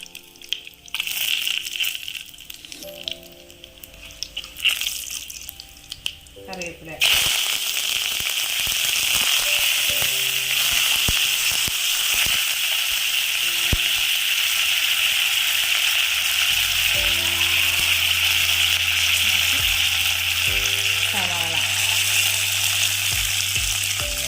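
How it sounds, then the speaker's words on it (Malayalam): Chilies dropped into hot coconut oil after mustard seeds have popped, crackling and spitting in the pan, first irregular bursts and then a loud, continuous close sizzle. "അതിൻ്റെ മുളക് ഇട്ട് കൊടുക്കാം"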